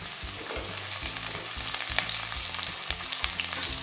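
Two large onions, sliced lengthwise, fry in hot oil for a spicy potato curry, giving a steady, dense sizzle with soft stirring scrapes and small crackles throughout, close and continuous with no talk.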